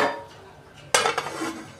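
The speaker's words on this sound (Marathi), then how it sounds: "आता आपण याच्यावर झाकण घालून घेणार आहे" A lid goes onto a steaming pot of patolya, leaf-wrapped dumplings. One sharp metallic clatter comes midway after a soft, quiet hiss, and a brief rattle follows as the lid settles. No one speaks.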